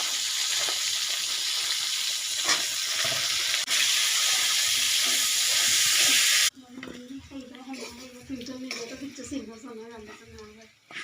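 Broccoli stems sizzle and hiss loudly in hot oil in a pan for several seconds before the frying noise cuts off abruptly and a voice is heard speaking.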